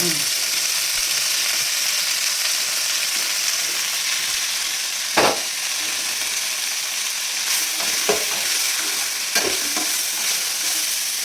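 Tomato and masala fry in about two spoons of hot oil for a village-style country chicken curry, a steady close sizzle running throughout with a few sharp stirring scrapes and clinks, no talking.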